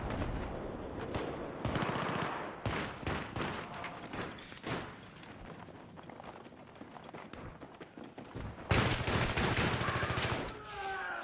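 Rapid automatic gunfire in close-quarters combat from the video game Battlefield 3 comes in repeated bursts, with footsteps between volleys and a louder burst near the end.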